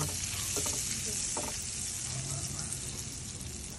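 Butter sizzling in a heated frying pan, a steady close hiss with a couple of faint scraping taps near the start, continuous and even throughout, no voices.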